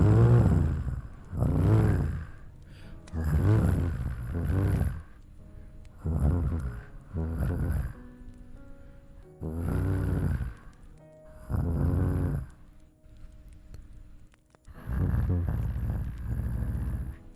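A person imitates a cat purring with the voice, a rough, rumbling, snore-like growl that comes in repeated bursts of one to two seconds with short pauses, loud and close.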